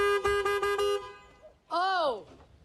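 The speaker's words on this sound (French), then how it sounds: "Mais qu'est-ce que vous avez à klaxonner comme ça?" A car horn in a French taxi film scene sounds four short, evenly spaced toots, then a longer blast follows after a brief pause, loud and close.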